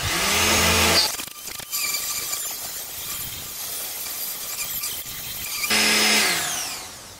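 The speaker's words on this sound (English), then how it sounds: "I use a die grinder with a wheel on it because you want to clear up all the nasty sharp edges" A die grinder fitted with a wheel smooths sharp metal edges on a homemade pellet smoker, whining loudly and continuously at close range, with a higher-pitched spin at the start and end and rougher grinding in between.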